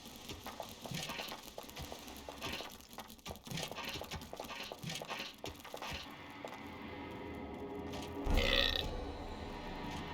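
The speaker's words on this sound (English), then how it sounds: "the hellhole rewarded the sacrifice of a live hero with a respectable burp." A loud, gurgling burp from a hellhole in a dark fantasy video game, rising out of busy game ambience near the end as one short belch.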